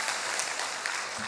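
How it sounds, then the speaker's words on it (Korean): A church congregation applauds during a Korean worship service, with brief, dense, continuous clapping that fills the room at a steady level. "하나님께 박수 한번 올려드리시죠"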